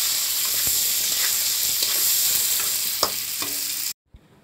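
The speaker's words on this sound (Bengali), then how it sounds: "এইভাবে পটল এবং পরে বেগুনটাও আমি ভেজে নেব।" Pointed gourd and eggplant fry in hot oil, a close, steady sizzling hiss with scattered pops and a few utensil clicks before the sound cuts off sharply near the end.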